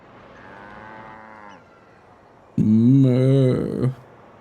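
Cattle mooing in the city-building game Tropico 6, one long drawn-out moo, then a pause and a second louder, nearer moo lasting over a second before cutting off.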